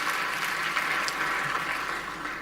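An audience at Kenya Innovation Week 2023 claps in a dense, even wash of applause that holds steady for a couple of seconds without letting up.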